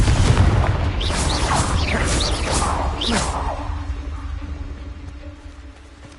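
A wizarding video game's Confringo blasting spell detonates with a heavy boom and crash, followed by a whooshing, crackling tail. The sound fades gradually over several seconds into a low rumble.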